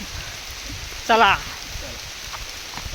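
Steady rain falls on an outdoor route near Bhimashankar in India, a dense, close hiss of drops on surfaces that runs throughout, with one brief spoken word partway through.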